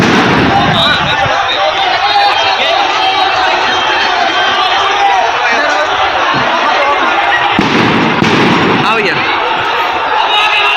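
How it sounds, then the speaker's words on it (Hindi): Explosions and blasts during street violence and stone pelting in Kanpur: loud, dense outdoor noise with crowd clamor and a couple of sharper bangs near the end. "तो एक एक कर धमाके की इन आवाजों को आप सुन सकते हैं"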